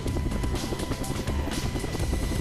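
Loud, steady rotor thump and turbine roar fill the cabin of a military helicopter climbing for a high-altitude parachute infiltration drill, unbroken and close throughout.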